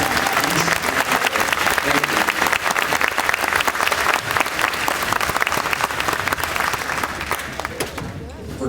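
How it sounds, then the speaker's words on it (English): Sustained audience applause for army infantry veterans at a Delta Company 2/29 Infantry Regiment graduation ceremony, a dense, steady clapping that fills the hall at full strength and tapers slightly near the end. "Ladies and gentlemen, please join us in a round of applause for these veterans that have taken peace"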